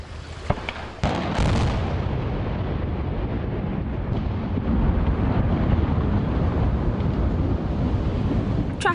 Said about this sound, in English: The 60-foot section of Milton-Madison Bridge between Kentucky and Indiana was taken down in an epic but controlled explosion.